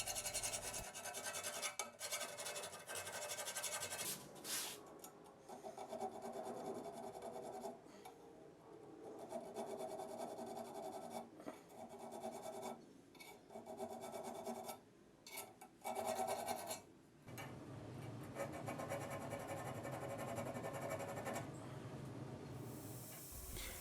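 Hand file rasping along the bevel lines of a Bowie knife blade, repeated back-and-forth scraping strokes in an uneven rhythm with brief pauses, close and fairly quiet, no talking.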